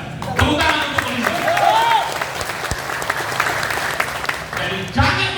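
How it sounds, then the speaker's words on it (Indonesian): Applause for the police at an inauguration ceremony of the Horas Bangso Batak organisation, a loud, sustained crowd clapping that swells and holds, with a voice briefly calling out over it and a final surge near the end. "Tepuk tangan untuk polisi."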